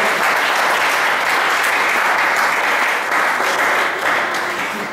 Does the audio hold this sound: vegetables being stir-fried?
no